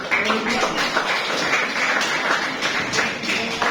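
An audience claps through a lecture or talk session, a steady, dense patter of many hands that is continuous and fairly close, with voices faintly mixed in.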